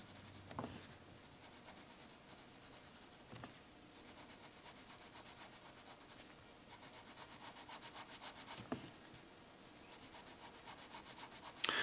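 Pencil drawing a sparrow's feathers on paper, soft scratchy strokes and rubbing close up, quiet and continuous with a few sharper taps, with no talk.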